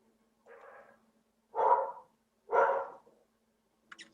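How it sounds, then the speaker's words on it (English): A dog barks three times, spaced about a second apart, heard faintly through a remote meeting connection, with a short faint sound at the end and no talking. "And there's Mr. Leonard's dog"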